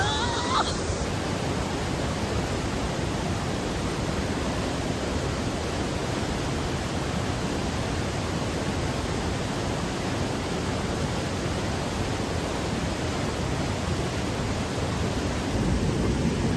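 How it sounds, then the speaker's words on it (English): Loud, steady rush of a flowing river heard up close as someone walks down toward the bank, a continuous broadband roar filling the whole stretch with no pauses. "I'm walking down to the river now and you can hear it. It's so loud."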